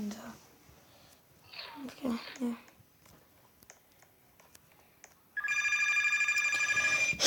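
A mobile phone in a pizza factory tycoon game rings loudly and steadily in a repeating pattern near the end, after a stretch of quiet whispered talk and soft rustling.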